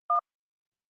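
A single brief telephone keypad tone, a clean two-pitch beep lasting about a tenth of a second, followed by silence.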